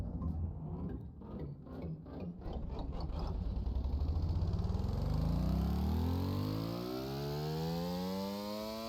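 A working modular model engine winds up to a massive high RPM, its tone climbing into a steady loud whine that holds near and continuous, with no one talking.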